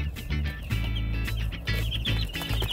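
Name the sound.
Cornish Cross chicks cheeping and pecking at cardboard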